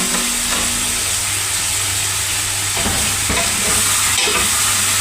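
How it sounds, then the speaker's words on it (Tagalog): Food fries loudly in a pan while being stirred, a dense steady sizzle with a low background hum and a few scraping knocks of the utensil against the pan. "Haluin lang natin na."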